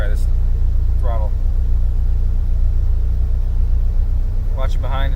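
A 2005 Subaru STi with flex-fuel tuning drones steadily on a dyno, a constant low engine rumble running underneath while someone talks briefly over it.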